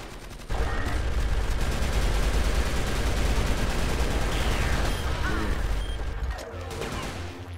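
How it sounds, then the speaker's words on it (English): Rocket launcher fire in CrossFire's Final Arena hard mode, a dense, loud barrage of blasts and gunfire with crashing impacts, running continuously for several seconds before tapering off. "Wow, rocket launcher."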